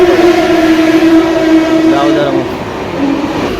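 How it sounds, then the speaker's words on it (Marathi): Mumbai local train at Diva station, a steady rumbling carriage drone with tonal hum running throughout, while people talk over it close by. "चला दिव्यावरून लोकल पकडलेली आहे."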